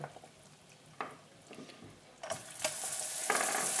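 Butter drops into hot golden caramel for a tarte Tatin, setting off a sizzle that swells from quiet stirring into a loud, sustained bubbling hiss toward the end.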